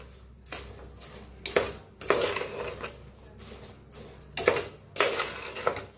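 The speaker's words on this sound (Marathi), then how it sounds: "या चमच्याने मी छान जरा भाजून घेऊया ह्याच्यातच." Soya rice seasoned with salt is roasted in a pan while a spoon stirs it, giving close, intermittent bursts of metallic scraping and clinking against the pan with short quiet gaps between strokes.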